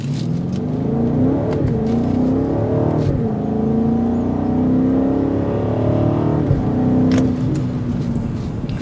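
A 2024 BMW X7 M60i with a twin-turbo V8 in Sport Plus accelerates hard from a stop, its loud engine note climbing in pitch through several upshifts with brief dips between gears, heard from inside the cabin without talk.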